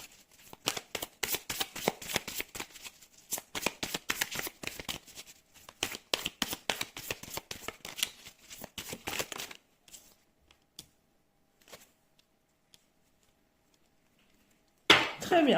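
Oracle cards for a tarot reading being shuffled by hand, a dense run of crisp riffling flicks for about nine seconds, then a few sparse soft taps before a final brief clatter; close and fairly quiet, no talking.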